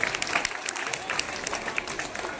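An audience applauds to welcome a guest onto the stage at a school farewell ceremony, a brief burst of dense clapping with a voice faintly audible underneath.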